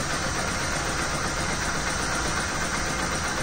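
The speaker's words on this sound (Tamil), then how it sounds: "பார்ப்போம் வண்டி ஸ்டார்ட் பண்ணி" Bajaj Pulsar motorcycle engine with a throttle position sensor fault, idling in a loud, steady, even rumble close by, with no speech.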